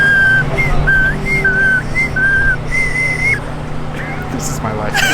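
A shrill whistle sounds at a car show in a series of short, wavering toots, loud and close, with some background noise.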